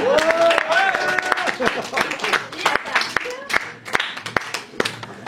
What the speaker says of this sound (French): on l'encourage et on l'applaudit